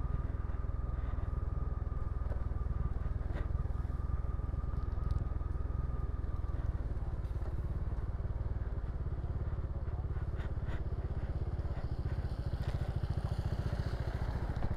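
A rented motorbike carries its rider along a mountain road toward Gangtok, its engine a steady low rumble throughout, with occasional clatter and a voice speaking briefly.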